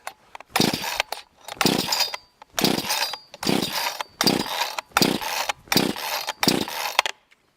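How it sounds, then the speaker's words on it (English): A cheap chainsaw engine is started with the ignition on and the choke out. Roughly eight loud, close pull-start bursts come at a steady rhythm with short gaps between them, and the engine never settles into a sustained run. "So we got the ignition on, the choke out. Well, let's just see what happens here."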